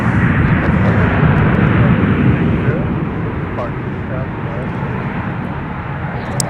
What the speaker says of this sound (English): catch the touchdown of our arriving Delta 737-900